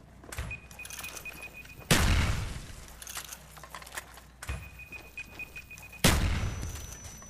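Gunfire aimed at zombies in Call of Duty: Black Ops Zombies comes in four sharp bursts spread across the stretch, each with a booming tail, between quieter game noise.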